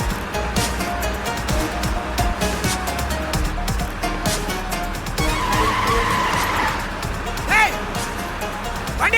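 A car brakes and skids to a stop with a long tire squeal rising mid-clip, over a dense bed of dramatic music and other sounds, with some voices present.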